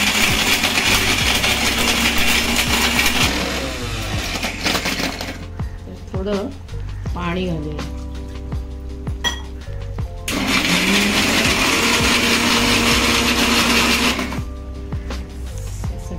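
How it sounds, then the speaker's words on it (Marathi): A mixer grinder whirs loudly grinding small crabs with water, running in bursts with pauses between them and clinks of the jar, while a person speaks briefly during a lull. "हे आपण मिक्सरला लावून घेऊया।"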